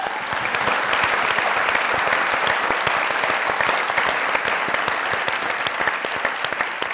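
Studio audience applause on a Pakistani comedy talk show, a dense, steady wash of clapping that stays loud and even for the whole stretch with no voices over it.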